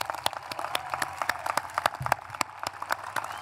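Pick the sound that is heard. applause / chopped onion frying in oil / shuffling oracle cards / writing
applause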